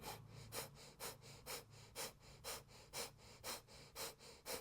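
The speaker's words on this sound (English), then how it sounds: "begin the breath of fire" Breath of fire, rapid yoga breathing in a Kundalini class: a steady run of about a dozen sharp, forceful exhales at a quick even rhythm, close and clear with soft inhales between.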